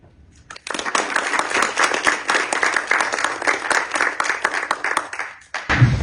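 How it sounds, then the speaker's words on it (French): An audience claps after an introduction at a formal gathering, with applause swelling quickly and holding steady for several seconds before tapering off. "Et donc je vais vous demander de l'applaudir"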